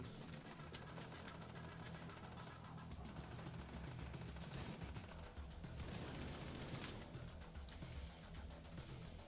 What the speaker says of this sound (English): I got a bunch of these guys shooting at me